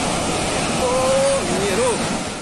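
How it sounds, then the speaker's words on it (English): Raging floodwater surging alongside a landslide, a loud continuous roar of rushing water filling the scene, with a voice shouting over it. "A terrifying close-up of a landslide, joined by raging floodwaters."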